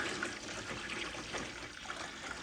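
Lukewarm water pours and trickles steadily into an aeroponic propagator tank, a continuous close splashing wash with no talk.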